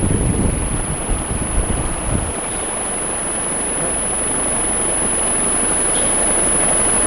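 Wind blows steadily against a homemade wind generator outdoors, a broad continuous rush that buffets the microphone heavily at first and then settles into a constant roar; no one speaks.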